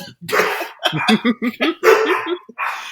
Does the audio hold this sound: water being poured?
no